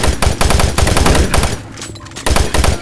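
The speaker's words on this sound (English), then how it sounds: "Oh, whoops, I shot that bot." Rapid bursts of gunfire in the shooter Doom 3, loud and close, with repeated shots in two runs separated by a brief lull, no talking over it.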